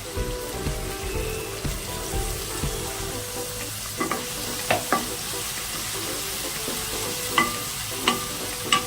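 Corn chivda made from boiled green corn being stirred and roasted in a pan, a steady soft sizzle with intermittent scraping clicks from the stirring, close and moderately quiet, with no voices.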